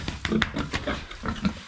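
Pigs grunt and snort in a farm pen in a quick, dense, close-up jumble of short grunts.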